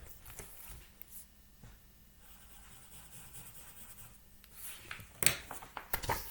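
A marker dragging across a board to draw a squiggle, with soft continuous rubbing strokes, faint and close, ending in a few sharper taps and squeaks.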